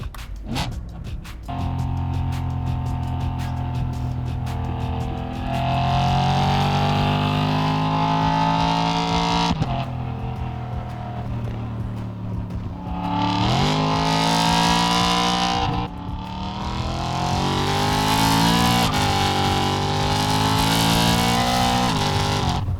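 A BMW M3's engine revs loudly and close up, climbing in pitch through the gears with brief pauses at each upshift and blipping on downshifts, steady and continuous with no voices.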